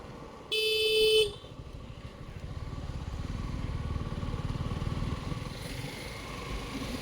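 Road traffic on the way to Bhimashankar near Pune, a loud car horn blaring for under a second near the start, followed by a steady rumble of passing cars and motorcycles, with a fainter honk later.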